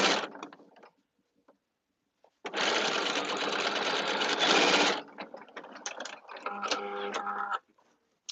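A sewing machine runs in bursts while a caftan is gathered, with a short opening whir, a quiet pause, then a loud sustained run of about two seconds followed by choppy start-stop stitching and clicks.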